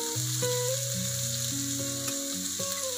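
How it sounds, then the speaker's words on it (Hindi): Medium-sized tomatoes frying in a pan for chana dal chutney, a continuous sizzle with a light stir, while steady tonal music plays over it and nobody speaks. "तो अच्छे से भूनिए जब तक सॉफ्ट ना हो"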